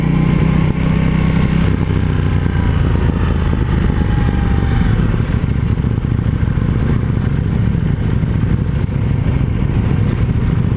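A KTM 790 Duke motorcycle engine runs hard while being ridden, a loud, continuous mid-pitched drone with rumble and rising engine pitch throughout, no talking.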